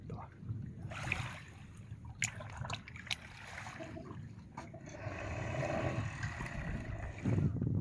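Boat on blue open sea water near Vanino, with lapping water, wind buffeting the microphone and a low rumble, while people talk faintly in the background.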